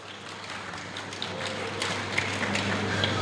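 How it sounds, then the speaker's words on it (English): Applause from an audience at a community medical outreach anniversary gathering for Offa: a steady spread of clapping with sharper individual claps, moderately loud and slightly swelling toward the end. "A round of applause for Offa."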